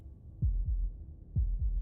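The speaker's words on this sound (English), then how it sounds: "That was the sound of a heartbeat" Heartbeat sound effect in the video game Slay the Princess: two deep, muffled double thumps, lub-dub pairs about a second apart, low and throbbing over a faint hum, with no speech.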